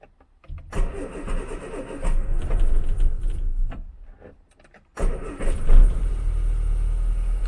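An Austin Allegro car engine, freshly serviced carburettor, cranks and catches, runs unevenly, dies briefly, then restarts and settles into a steady close idle with some revving.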